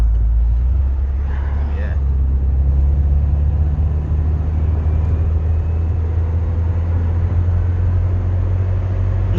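An Austin Ambassador Vanden Plas, freshly given an oil and ignition service with balanced carburettors, cruises under gentle throttle: a steady low engine and road rumble fills the cabin, with a faint voice briefly near the start.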